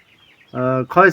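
A chicken gives two quick, loud clucking calls close by, after a faint chirping of mixed chicks in the background.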